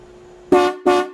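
Two loud blasts from a vintage electric horn run on 12 volts, each a bright, buzzy harmonic tone lasting about a third of a second, separated by a short gap over a faint steady hum.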